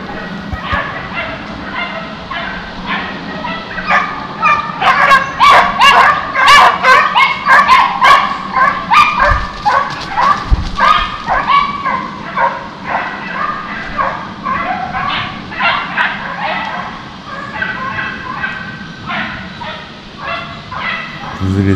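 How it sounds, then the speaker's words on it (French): A pack of hunting dogs bays, yips and whimpers continuously during a driven wild boar hunt in woodland, the barking overlapping from mid-distance for over twenty seconds, with some faint talk. "juste pour le plaisir d'entendre les chiens"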